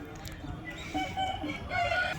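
A Kagi Dega rooster calls and clucks at a rural poultry market in Nallapadu, moderately close, with faint market voices around it.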